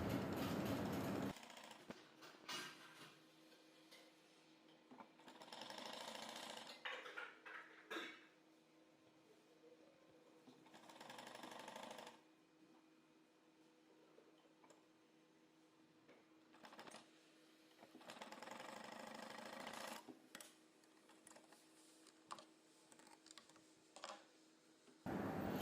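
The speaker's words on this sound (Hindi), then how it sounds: "यहीं से सिलाई शुरू करनी है हमने" Domestic sewing machine stitching net fabric on a girls' top, running in bursts of steady mechanical whirring several seconds long with quieter pauses between.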